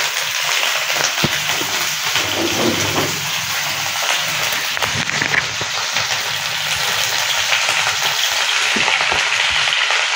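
Okra frying in a pan with salt, sugar and turmeric, a steady hiss and crackle of sizzling that carries on without a break, with a few faint clinks and stirring sounds.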